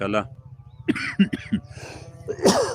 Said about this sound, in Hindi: सर्दी है और उसकी वजह से जो है ना खांसी लग जाती है